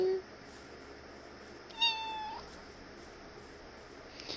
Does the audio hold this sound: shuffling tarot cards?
no